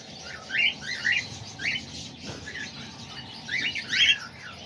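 Baby cockatoos giving short raspy chirping calls in small bursts, fairly close against a low background hum, with brief quiet gaps between calls.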